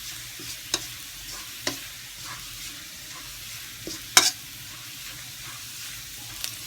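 Garlic fries in a pan for Thai-style stir-fried instant noodles, giving a steady soft sizzle with a few sharp spatula clicks and scrapes against the pan scattered through it, and no talking.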